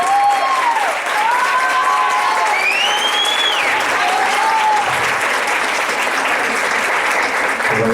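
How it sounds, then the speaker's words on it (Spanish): Audience at a micropigmentation artists' symposium in Mexico breaks into loud, continuous applause, with whistles and cheers rising over the clapping early on. "me ayuden a darle un fuerte aplauso a Leo."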